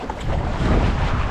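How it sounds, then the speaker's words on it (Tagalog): Strong waves slap against a small boat at sea, mixed with steady wind buffeting the microphone, a continuous loud rushing wash with no talk. "Ang lakas ng alon."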